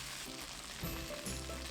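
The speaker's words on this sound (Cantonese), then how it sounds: "我哋慢慢俾啲心機煎香佢，到佢兩邊嘅面都變咗金黃色之後呢" Chicken wings pan-fry in a wok, browning golden on both sides, with a steady, dense sizzle and crackle filling the whole moment, close and continuous with no talk.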